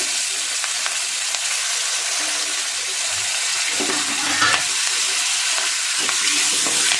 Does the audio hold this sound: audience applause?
no